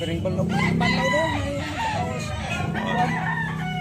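Yellow-legged gamecock crowing close by, a loud drawn-out cock-a-doodle-doo with clucking around it, while someone talks in the background.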